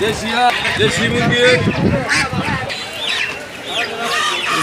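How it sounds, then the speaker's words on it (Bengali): Ducks, including native and Muscovy ducks, quacking and honking in a noisy crowd at Sirajdikhan poultry market in Munshiganj, with chatter and market bustle around them. "মুরব্বীর কাছে দেশি হাঁস আছে রাজা হাঁস আছে"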